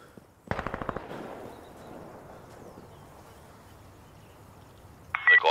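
A quick string of about six sharp Glock pistol shots in Insurgency Sandstorm rings out, then fades into a low echoing tail, followed by another loud burst of fire at the end.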